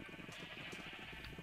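Sheep bleating in Minecraft, a steady, faint, continuous wash of repeated bleats from several animals with no talking over it.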